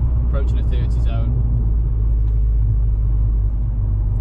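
A Ford Fiesta with a Mountune engine upgrade and aftermarket exhaust cruises along, giving a steady low engine rumble and road drone throughout, with a voice speaking briefly over it at the start.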